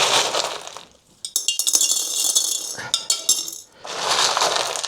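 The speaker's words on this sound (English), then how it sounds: "but rocks and glass make noise." Rocks and glass pieces clink and clatter together in bright, irregular bursts, close and fairly loud, while a garden display piece with a glass vase is being set up, with short quiet gaps between handling.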